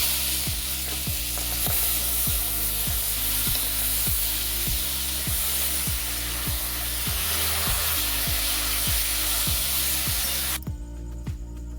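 Chicken pieces hit hot oil spiced with cumin, a dried red chilli and cardamom in a pan, setting off a loud, steady sizzle with regular scraping stir strokes throughout before the sound cuts off abruptly near the end.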